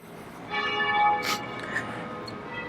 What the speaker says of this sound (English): of course now the bells are ringing